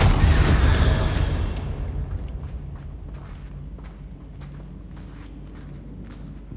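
A Confringo fire spell explodes in Hogwarts Legacy with a loud, close boom at the start, then a long rumbling tail that fades over several seconds with faint scattered crackles.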